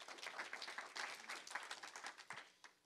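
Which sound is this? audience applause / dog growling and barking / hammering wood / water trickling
audience applause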